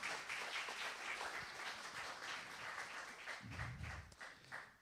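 A church congregation applauds after a sermon, broad sustained clapping from many hands at moderate distance, fairly faint, with a brief low rumble near the end.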